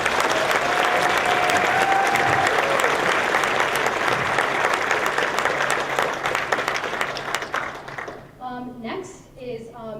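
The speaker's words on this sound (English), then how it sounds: "So yeah, give them a huge round of applause." Loud, sustained applause from a large concert audience honoring the choir parent boosters, dense clapping that holds steady for about eight seconds before thinning out as a voice begins speaking.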